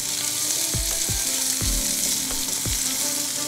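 Chopped onion and green chilli fry in a pan with a steady, close sizzle, broken by several low thumps from stirring or tossing. Nobody speaks.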